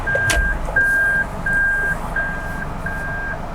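Repeated electronic reversing beeps from an automatic car being backed up, steady evenly spaced tones about every half second, clear over low engine and road rumble.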